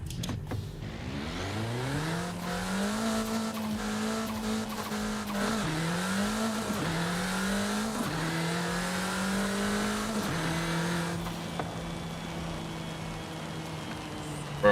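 A car accelerates hard on a late-night drive, its engine note climbing steadily through several gear changes, each shift dropping the pitch briefly before it rises again, loud and continuous from start to finish.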